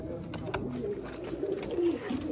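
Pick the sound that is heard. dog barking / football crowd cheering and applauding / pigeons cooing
pigeons cooing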